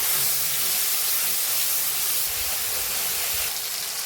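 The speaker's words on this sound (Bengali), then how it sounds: "সেটা আমি জল দিয়ে পেস্ট করে নিলাম। এবারে আমি তেলের ভেতরে দিয়ে দেব।" Kashmiri chili paste mixed with water hits hot oil, producing a loud, steady hissing sizzle that holds without a break and eases slightly at the end.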